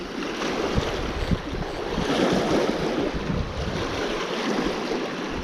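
Wind-driven waves wash steadily on the shore while strong wind buffets the microphone, a continuous loud roar with no voices.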